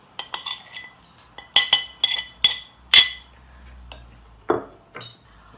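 A spoon mixes orange food colour and salt into gram flour in a bowl, making batter for Lahori fish fry. Sharp, irregular clinks and taps ring out close by, with no talking.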